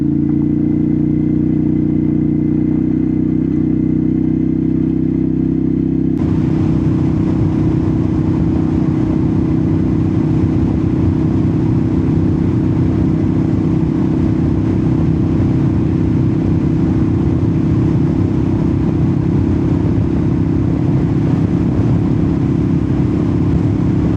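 A 2012 Ducati Monster 659 sports motorcycle riding, its engine droning steadily and loudly close by with a constant hum and wind rush throughout, no talking.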